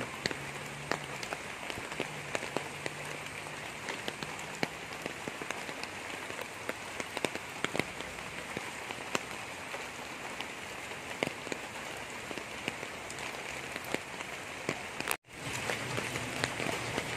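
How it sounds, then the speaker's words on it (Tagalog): Steady heavy typhoon rain patters and drums on a surface throughout, dense and close, with a brief cutout near the end before the downpour resumes. "Sana tumigil ng ulan"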